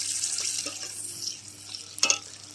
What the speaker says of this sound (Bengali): তার জন্য তেলের মধ্যে পেঁয়াজ দিয়ে দিয়েছি। পেঁয়াজটা একটু ভালো করে ভেজে নেব।